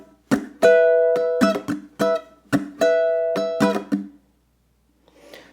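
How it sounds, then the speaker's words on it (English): Ukulele strumming in a steady pattern, ringing chords broken by sharp percussive muted chunk strums, close and clear, repeated twice before fading into quiet. "Let me play it a couple times without calling out the pattern, and it sounds like this."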